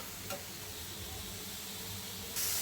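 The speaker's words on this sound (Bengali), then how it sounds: "মাছের ডিম, হলুদ লবণ তেল সব কিছু দিয়ে মশলা দিয়ে এটাকে একটু ভালো করে ফুটিয়ে নিচ্ছি" Fish roe cooking in oil with turmeric, salt and spices, a soft steady sizzle and bubbling throughout, close and quiet, rising to a brighter hiss at the end.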